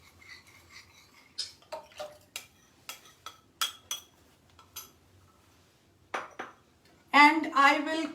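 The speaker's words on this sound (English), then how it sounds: "I will continuously whisk because it's very essential that this has to be whisked continuously" Cornflour mixed with milk whisked in a pan, giving a run of short metallic clinks and scrapes spaced irregularly, fairly close, ending in a louder burst of rattling and splashing.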